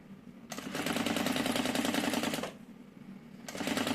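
A sewing machine stitches a second seam in two bursts, a rapid mechanical rattle running about two seconds, a pause, then starting again, close and moderately loud.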